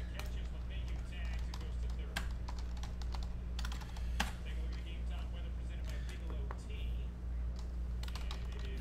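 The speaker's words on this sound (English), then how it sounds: "let's type in all of these" Fast, irregular clicking of keys on a computer keyboard, close and fairly quiet over a steady low hum, with faint background speech.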